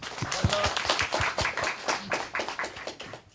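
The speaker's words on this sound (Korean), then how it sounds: "박수 다시 한번 부탁드리겠습니다" Applause from a meetup audience at a protocol event in Seoul, with distinct individual claps in an uneven patter that thins out toward the end, a voice murmuring faintly underneath.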